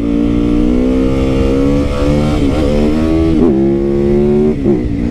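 A 2021 Harley-Davidson Sportster S motorcycle engine revs loudly and steadily up close, its throttle rising and falling in a few surges over a continuous deep exhaust rumble.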